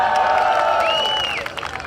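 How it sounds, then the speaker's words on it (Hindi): An audience claps at a poetry recital (mushaira): a dense, loud wash of applause with a sustained voice-like tone over it, fading slightly toward the end of the short burst. "ताली बजाएं बराए मेहरबानी।"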